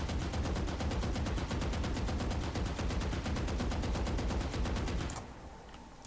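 Vandal rifle held on full-auto in Valorant, a rapid even stream of about twenty-five sharp gunshots for five seconds, loud and close, then cutting off to near silence.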